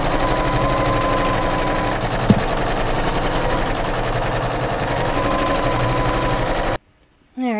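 A computerized embroidery sewing machine stitches green thread on a quilted pillow block, running as a steady, loud mechanical whir for most of the time before stopping abruptly near the end.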